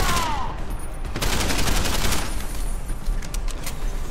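Gunfire in the video game Deus Ex: Human Revolution, a burst of rapid shots followed by scattered further rounds, loud and close, with no talking over it.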